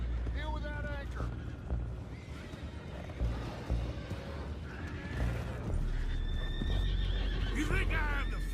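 Horses whinny repeatedly and hooves clop in a Red Dead Redemption II scene set by a boat on the water, with wind noise and a low rumbling underneath.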